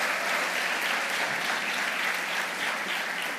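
Steady audience applause at a motivational seminar, a dense continuous wash of clapping at even loudness throughout.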